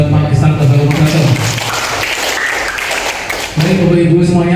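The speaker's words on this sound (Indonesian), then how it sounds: "tepuk tangan buat Pak Islam dan Bapak Moderator" Audience applause for a speaker and moderator at a city programme-planning meeting in Tegal, a dense steady clatter of clapping filling the room for several seconds, with voices audible at the start and end.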